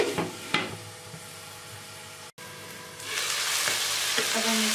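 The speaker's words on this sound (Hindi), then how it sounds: "ये चिकन और प्याज फ्राई हो रहा है" Chicken and onions fry in a pot with a continuous close sizzle, a few stirring scrapes near the start, and the hiss growing louder in the final seconds; no talking is heard.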